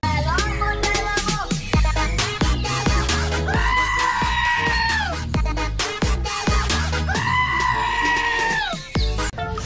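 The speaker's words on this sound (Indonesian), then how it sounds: "Di sini ada domba." A toy sheep gives repeated drawn-out bleats over loud, rhythmic music with thumping beats.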